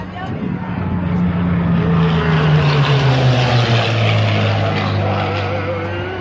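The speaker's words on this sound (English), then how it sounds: "Here comes that P-63 again." A P-63 warplane passes low and loud over an air show, its engine drone sweeping steadily downward in pitch as it goes by, strong and sustained throughout.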